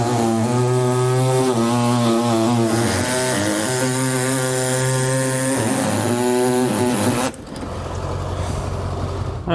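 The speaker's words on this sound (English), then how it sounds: "So I'm just going to use an air saw to do this." Pneumatic air saw cutting through a 2017 GMC Sierra truck bed rail, a loud, steady, harmonic whine that holds for about seven seconds before abruptly cutting out into a lower mechanical rumble.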